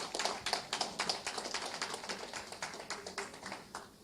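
A seated audience at a conference session on law enforcement claps for the chairman, a light, fairly quick run of handclaps that thins out over a few seconds, fairly faint with no talk.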